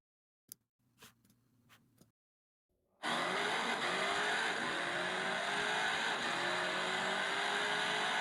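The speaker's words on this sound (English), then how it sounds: "We are putting all 3 cars onto the virtual drag strip." After a few faint clicks and a pause, simulated hypercars with identical 1,500-horsepower engines launch down a virtual drag strip, building into a loud, sustained roar that rises in pitch as they accelerate.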